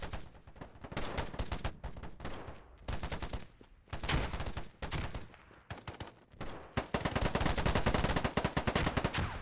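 Rapid bursts of AK-47 gunfire in the PC shooter game Polygon, loud automatic volleys coming in uneven clusters with brief pauses, then a sustained stream of fire at the end, alone with no talk.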